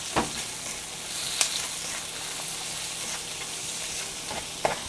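Garlic and onion frying and being stirred in a pan for pork menudo, a steady soft sizzle with a few sharp clicks of the spoon against the pan, close and alone.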